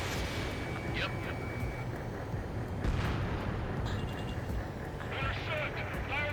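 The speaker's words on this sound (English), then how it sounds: "Fire the AA!" Anti-aircraft fire and explosions in the combat flight game Ace Combat 7: Skies Unknown, a dense continuous rumble of booms and blasts with a few sharper bursts, heard under radio chatter.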